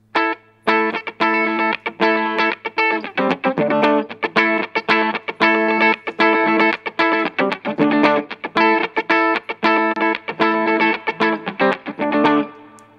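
A guitar played through an Orange Thunderverb 200 amp simulation in Amplitube on a clean setting: loud, close, rhythmic strummed chords with quick muted stops, heard alone without talk.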